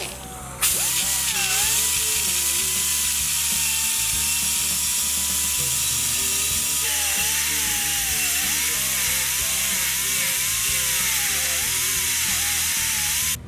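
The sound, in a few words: grinder grinding metal part for bulldog build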